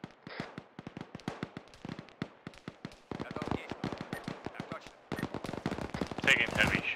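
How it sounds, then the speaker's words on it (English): Rapid bursts of video game gunfire crack in a dense, continuous stream, with sharp shots piling on top of one another and getting louder and busier toward the end. "Taking heavy shots from the direct south."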